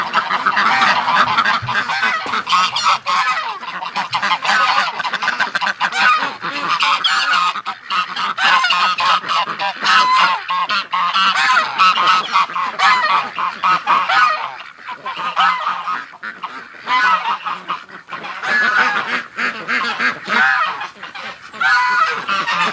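A crowd of recently hatched ducklings and goslings, just woken, gives loud, continuous honking and peeping close by, a dense overlapping chorus that hardly pauses.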